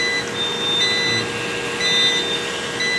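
A 10 kVA Consul Neowatt UPS sounds its alarm with the battery breaker switched off: short, high-pitched electronic beeps repeating at intervals over a steady background hum, with no talking.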